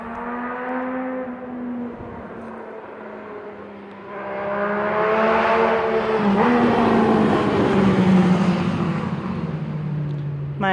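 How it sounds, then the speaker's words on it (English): A loud motorcycle roars past outside, its engine rising and falling in pitch as it approaches and recedes, fading to a lower drone. "it's loud motorcycle weather"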